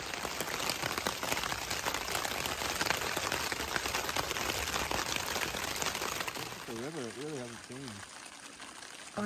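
Steady rain patters and hisses through Buckskin Gulch, a narrow slot canyon in the Paria Canyon area, filling the space with a dense, unbroken wash of sound; a voice briefly rises near the end.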